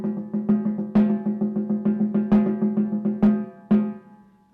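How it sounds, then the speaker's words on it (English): Snare drum strokes in a steady stream of evenly spaced hits with periodic louder accents, played alone and close, a triplet figure from measures 33 to 35 of a junior high percussion set piece. "If I play it on snare drum, it just sounds like this."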